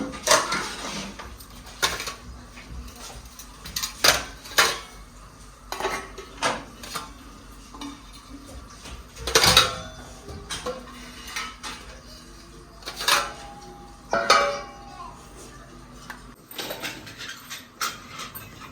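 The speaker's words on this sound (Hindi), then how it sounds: "इधर रखते हैं स्टील वाले बर्तन साथ।" Steel utensils are set down and arranged in a home kitchen, giving scattered close metallic clinks, clatters and scrapes at an irregular pace, with quiet gaps between bursts.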